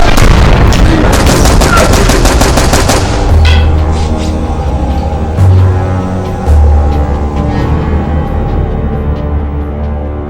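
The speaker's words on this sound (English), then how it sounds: "Those were gunshots, right?" Gunfire in a Nigerian movie scene: a loud rapid volley of shots for about three seconds, then scattered heavier booms and single shots fading into quieter background noise.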